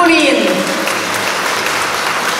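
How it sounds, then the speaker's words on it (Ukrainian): An audience applauds at a school brass band concert, a dense, even wash of clapping that stays steady throughout, with a voice heard briefly at the start. "Оплески"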